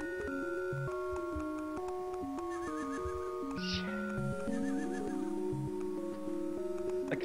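A horse whinnies briefly amid the synthesized melodic music of the Barbie Horse Adventures video game, a short high neigh standing over the steady in-game score.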